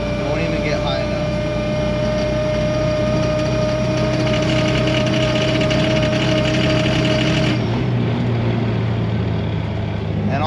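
A supercharged 3RZ engine in a 4x4 Toyota Sunrader motorhome while driving: a loud, steady engine drone with a high supercharger whine running through most of it, which drops away near the end as the engine note shifts.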